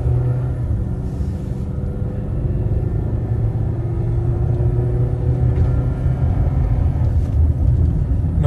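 A 2010 Dodge Journey accelerates smoothly while driving, its engine a low, steady rumble heard from inside the cabin that gradually swells.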